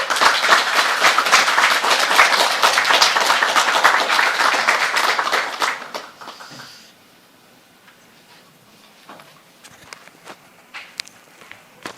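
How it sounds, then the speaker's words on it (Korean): Audience applause at a user conference welcomes the keynote speaker, dense clapping for about six seconds before fading, followed by quiet room noise and a few faint footsteps or knocks. "대표님, 박수로 환영해 주세요"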